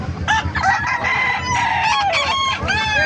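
Roosters crow repeatedly at a busy live chicken market in Bocaue, Bulacan, several loud overlapping calls rising and falling over clucking and general crowd noise.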